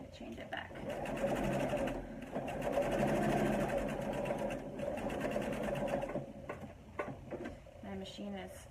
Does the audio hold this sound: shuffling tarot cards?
no